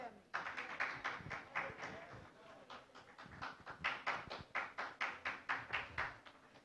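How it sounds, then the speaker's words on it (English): An audience at an HR conclave in Pune claps in a rhythmic burst of applause, sharp repeated hand claps that swell and carry on for several seconds in a hall. "A big round of applause for them."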